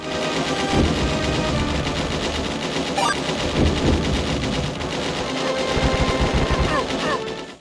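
Continuous, dense video game gunfire with rapid bursts and blasts that might be grenades, loud and unbroken throughout, with possible game voices mixed in.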